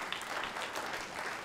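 Audience applause at a stand-up comedy club, a continuous spatter of clapping from the crowd, moderately loud and sustained without any voice over it.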